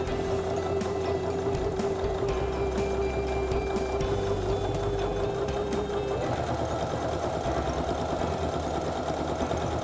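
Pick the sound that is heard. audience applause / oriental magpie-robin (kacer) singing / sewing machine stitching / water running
sewing machine stitching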